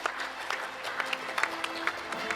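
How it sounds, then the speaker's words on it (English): Applause at a sustainability award ceremony in Pune, a fairly faint, steady patter of many hands clapping, with scattered louder claps standing out and a low hum underneath. "Can we have a big round of applause too?"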